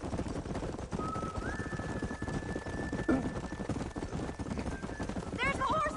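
Steady clip-clopping hooves run throughout under busy background noise, with a whistle-like tone and a brief whinny near the end.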